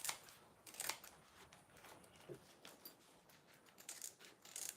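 Scissors trim fabric lining close to a back-stitched seam, giving a few soft, crisp snips spread across the moment, quiet and close, with no talking.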